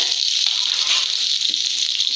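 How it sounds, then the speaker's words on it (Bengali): Steady, bright sizzling of koi fish (climbing perch) frying in hot oil, a continuous hiss at even loudness with faint crackles, no voices. "মাছটা এখন আমার মা ভেজে ভেজে নিচ্ছে"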